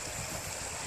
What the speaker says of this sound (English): you can hear the beautiful, beautiful creek going over the rocks.